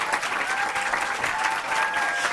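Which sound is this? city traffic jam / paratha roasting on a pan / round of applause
round of applause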